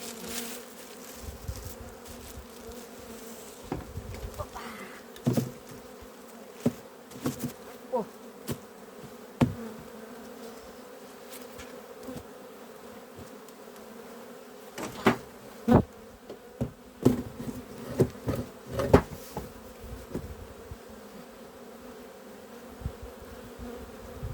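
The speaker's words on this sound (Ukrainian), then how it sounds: "Дивіться, що робиться по бджолі. Море бджоли." A dense, steady hum of honeybees swarms around an apiary hive, with many individual bees buzzing close past in sharp, brief passes.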